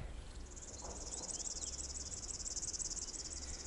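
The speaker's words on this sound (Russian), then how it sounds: "Птица какая-то, как кузнечик." Insect chirping like a grasshopper on an outdoor eco-trail in Perm in late May: a continuous, high, buzzing trill that holds steady throughout at moderate distance, with quiet open-air background and no talking.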